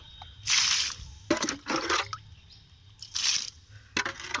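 Soaked oil cake liquid feed splashes and trickles onto bitter gourd plants in a few short, wet pours, close by and moderately loud, with quiet gaps between them.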